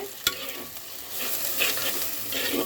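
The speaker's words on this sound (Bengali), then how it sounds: "পেঁয়াজটাকে খুব সুন্দর করে ভেজে নেব" A close sizzle of onions frying in a pan of oil with radhuni seeds, with a sharp clack at the start and stirring scrapes over a steady crackling hiss.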